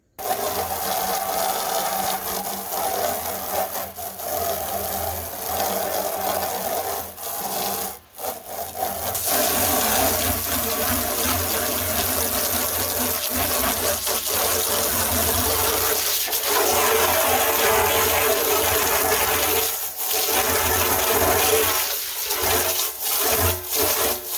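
Water sprays hard and steadily while a plastic rain barrel is rinsed out, with a broad hissing wash and a few brief dips and knocks.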